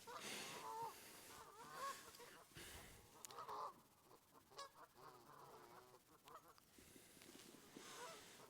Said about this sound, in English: The geese are kicking off even more.